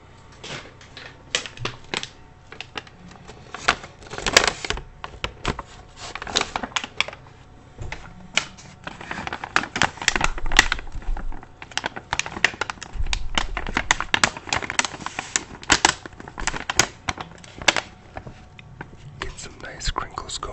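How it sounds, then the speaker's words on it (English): Brown paper bag crinkling and rustling in soft, irregular bursts close to the mic, with a whispered voice murmuring through much of it. "Nice crinkles going for you."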